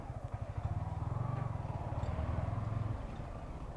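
A motorcycle engine idles nearby with a steady low throbbing rumble, alone, fading slightly near the end.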